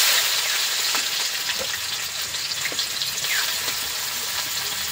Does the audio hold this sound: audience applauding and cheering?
no